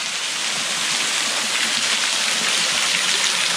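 Water rushes and splashes steadily at the Guralsky waterfall and its stream in the Khmelnytskyi region, a dense, constant roar close by with no break and no voices.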